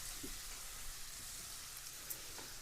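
A pork chop sears in a hot pan, giving a steady, even sizzle throughout, with faint clicks as the chop is turned over.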